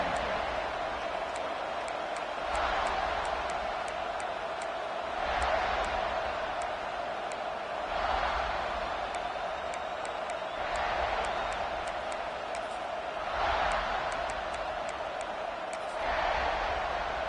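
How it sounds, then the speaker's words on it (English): Stadium crowd at a South Carolina vs Texas A&M college football game roars in a steady, distant wash, swelling in rhythmic chant-like waves every few seconds, with no clear talking over it. "This crowd ready to make its presence known."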